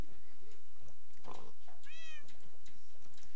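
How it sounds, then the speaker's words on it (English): A cat meows inside a video game: a single clear, rising-and-falling harmonic meow sounds near and distinct over a faint low background, with no talking. "I wonder who's saying meow, because your mouth did not move when that strange meow came."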